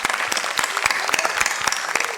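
Audience at a school quiz regional final in Mumbai applauds a young participant, a dense steady burst of clapping from many hands throughout.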